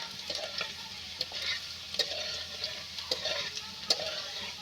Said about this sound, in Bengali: এবার আমি রসুনটা দিয়ে দেবো এইভাবে ভালোভাবে নেড়ে চেড়ে নিয়ে আমি লাল লাল করে নেব রসুনাটা